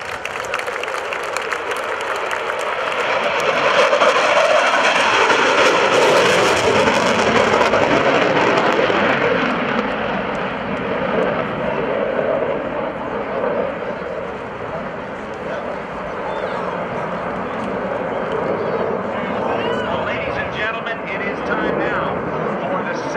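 A US Navy F/A-18F Super Hornet at the NAS Oceana airshow roars loudly in a sustained jet rumble, building then easing as it powers through a low go-around, with crowd noise and an announcer's voice underneath.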